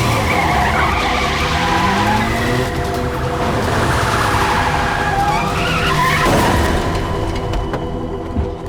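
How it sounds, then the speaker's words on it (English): A car skids hard on a ship's car deck and crashes into a police car, a loud, sustained rumble and tire scrape with a heavy impact burst partway through, close and dense without speech. "There's been a crash with a police car."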